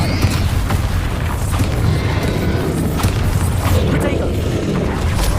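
Bombarda blasting spell explosions from the Hogwarts Legacy video game, a dense, continuous rumble of booming impacts and crashing debris with shouted voices mixed in throughout.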